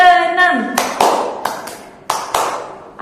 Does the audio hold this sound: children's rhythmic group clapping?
yes